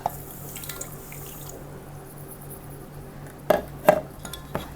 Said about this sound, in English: And then we add with hot water.